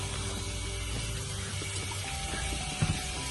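Water flushing through the impeller housing of a Volvo Penta inboard marine engine, a steady hissing rush of flowing water with a faint mechanical rattle and a couple of low knocks near the end.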